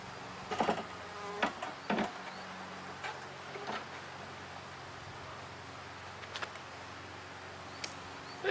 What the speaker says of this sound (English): Got a bee on my lens.